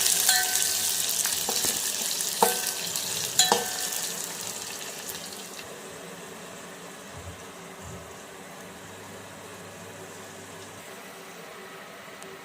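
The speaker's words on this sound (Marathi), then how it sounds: "यानंतर आपण कापलेला कांदा टाकून घेऊ आणि छान परतवून घेऊ।" Chopped onion frying in hot oil with garlic for hotel-style sambar, a steady sizzle broken by a few sharp stirring scrapes early on, then settling into a quieter, continuous fry with no voices.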